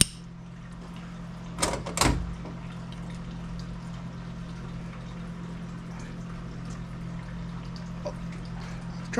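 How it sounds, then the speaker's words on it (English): Gasoline drains from the carburetor of a Honda HRR216 lawn mower, a couple of brief splashy bursts near the start over a steady low hum, with no one talking. "It's that gas draining back there."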